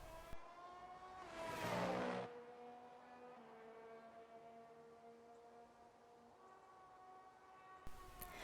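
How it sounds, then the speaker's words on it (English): An RB19 Formula 1 car in a racing video game at Circuit of the Americas, its engine whining through shifting harmonic tones with a loud surge early on, then a steadier drone that lifts near the end. "Ollie applies full throttle through the S's, turn 3 through 6, and continues applying the accelerators through turns 8 and 9."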